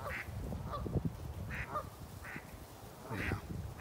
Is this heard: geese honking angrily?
yes